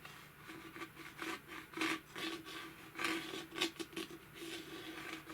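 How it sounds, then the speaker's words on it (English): A fingernail scrapes down the inside and along the bottom of a plastic pitcher, making faint, close, gritty rubbing strokes in short repeated bursts with no talking. "I'm going to go take my fingernail. I'm going to go down the inside of this pitcher"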